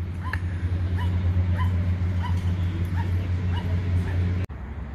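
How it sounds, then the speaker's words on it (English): Excited dogs at a park yip, bark and whimper in short repeated bursts over a low steady hum, moderately near, ending with a sharp click. "A couple of new dogs showed up and they're pretty amped up."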